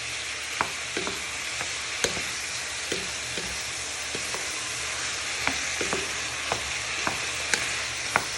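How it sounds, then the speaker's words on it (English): Onion and garlic sizzle steadily in a hot pan for a chicken and chorizo ragu, a continuous close frying hiss broken by occasional stirring clicks, with no talking. "so you can smell the flavours of the onion and garlic start to cook."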